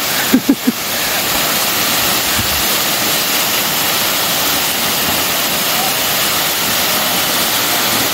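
Kailasa Kona waterfall roars as a steady, dense rush of falling water close by, with a few brief voices near the start.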